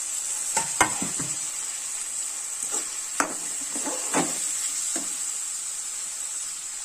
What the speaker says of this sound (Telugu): టమాటాలు కొంచెం ఫ్రై అవ్వాలి.